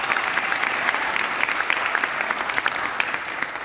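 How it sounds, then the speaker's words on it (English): An audience at a school announcement event for a guaranteed education pilot program bursts into loud, dense applause for the parents present, a steady roar of many hands clapping that carries through without pause. "So a big round of applause to the parents who are here."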